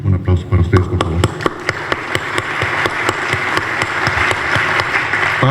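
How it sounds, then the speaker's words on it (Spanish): A voice speaks briefly before an audience at a commemorative event on fifty years of computing in Mexico bursts into applause: a few sharp, close individual claps at first, then fuller clapping that swells and holds loud to the end. "Un aplauso para ustedes, por favor."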